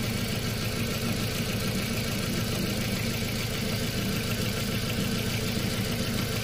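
A 2005 Audi A4 1.8T engine idles rough with a misfire, a steady close-up drone with uneven low pulsing that runs without a break and with no talk over it.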